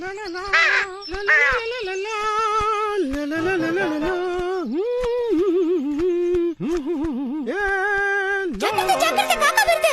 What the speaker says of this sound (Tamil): ஜாக்கிரதை ஜாக்கிரதை, காக்கா வருது.